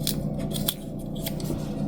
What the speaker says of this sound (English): I'm gonna cut it down a little bit now that we have our zipper pull on.